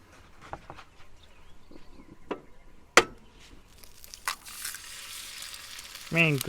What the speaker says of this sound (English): I'm just gonna cook up some eggs and some buns